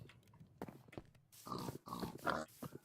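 Pigs grunting in a video game, several short snorting grunts in close succession with a few louder bursts near the end, alone without talk.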